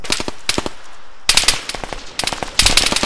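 Bursts of automatic rifle fire in the military shooter game ARMA 3, rapid clusters of loud sharp shots with short pauses between volleys, close and punchy.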